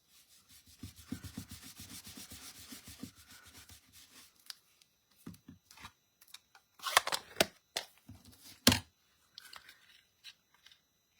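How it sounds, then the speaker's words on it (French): A strip of scrapbooking paper is cut with scissors, heard as a run of close, soft rhythmic snips and rustles that turn into sparser sharp cuts and paper handling toward the end. "On va couper la petite bande qui dépasse."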